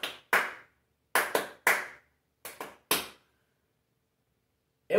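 Sparse, irregular hand claps, about eight sharp close strikes, some in quick pairs, with a long silence near the end, in a capoeira lesson setting.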